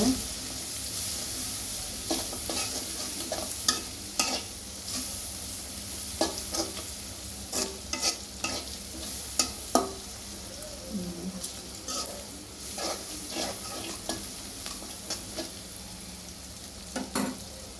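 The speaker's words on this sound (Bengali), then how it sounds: "একটু সামান্য হলুদ দিয়ে দিলাম। একটু নাড়াচাড়া দিব।" Spices with a little turmeric fry in a pan while a spoon stirs them. A steady sizzle runs throughout, broken by scraping strokes and clicks against the pan.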